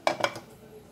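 A lid goes onto a cooking pot of vegetable pulav, giving two or three quick metallic clinks close by, followed by faint background hiss.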